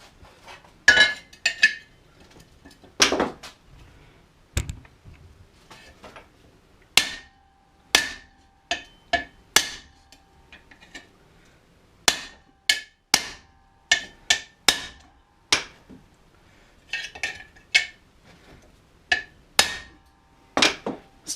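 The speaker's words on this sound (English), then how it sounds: "I'll use this large piece of stuff, put it in there, and whopped it with a hammer" A hammer strikes a car's front suspension part in a workshop, sharp metallic blows arriving in irregular bursts and singles with short pauses between, loud and close, with no talking.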